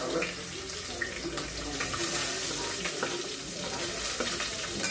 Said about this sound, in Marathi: आता हा कांदा आपण छान परतवून घेऊया.